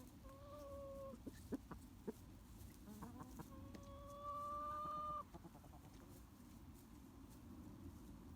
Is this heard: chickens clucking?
yes